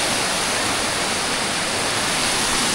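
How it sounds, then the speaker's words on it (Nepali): A small waterfall on a trekking trail near Dudhkunda Lake in Solukhumbu, a loud, close, constant rushing roar of falling water filling the whole moment without a break. "झरना चाहिँ सानो सानै हो"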